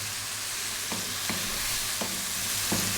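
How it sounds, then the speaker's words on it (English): Tomatoes and spices fry over lively heat for a yellow dal, giving a soft steady sizzle with four evenly spaced stirring scrapes from a utensil in the pan, and no voices. "Stay on this fairly lively heat, stirring fairly often."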